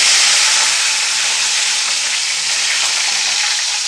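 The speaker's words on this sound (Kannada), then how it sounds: "ಇವಾಗ ನಾನಿಲ್ಲಿ ಒಂದು ಎರಡು ಎಸ್ಲಷ್ಟು ಕರಿಬೇವನ್ನು ಹಾಕ್ಕೊಳ್ತಾ ಇದ್ದೀನಿ" Curry leaves drop into hot oil already holding mustard seeds and cumin, setting off a loud, dense, continuous hissing sizzle that fades slightly over a few seconds, with no voices.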